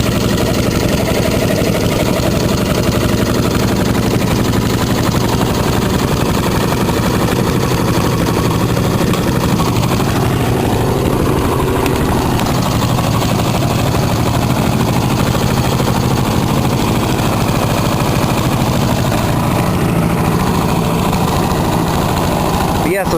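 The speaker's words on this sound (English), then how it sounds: "that's an internal combustion engine running off of nothing but charcoal" A small internal combustion engine fuelled only by charcoal gas runs steadily and loudly throughout, a continuous dense mechanical drone with a rough, rattling texture and no pauses.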